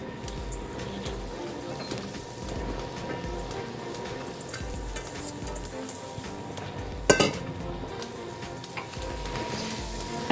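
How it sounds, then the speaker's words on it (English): Eggplant sauteed in a pan for ratatouille, a soft steady sizzle with the clatter of a utensil and pan and one sharp clink near the end. "I'm going to add in our eggplant."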